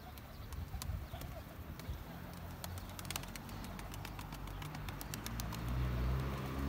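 Tumbler pigeons coo in low, soft repeated calls close by, layered over a steady background rumble with scattered clicks and wing or foot noises.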